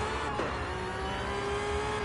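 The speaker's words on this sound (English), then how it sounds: "I absolutely love the sound of this car" A race car engine in a racing video game drones steadily at high revs, a sustained, moderately loud whine holding one pitch with a brief dip near the start.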